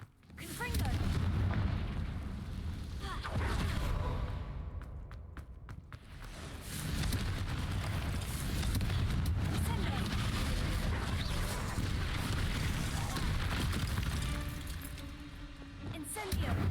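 Fiery spell blasts boom and crackle in the Hogwarts Legacy video game, with loud, dense bursts and rumbling continuing across the whole stretch and barely a dip midway.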